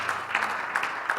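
Church congregation clapping during a Sunday service, a moderate patter of hands with a few sharper peaks, fairly soft and somewhat distant, with no voices.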